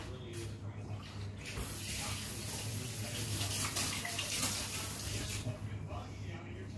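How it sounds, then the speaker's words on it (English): Water runs steadily from a kitchen tap as hands are washed during meatball preparation, a constant splashing hiss, fairly quiet, with faint movement in the stream. "So I'm just going to wash my hands."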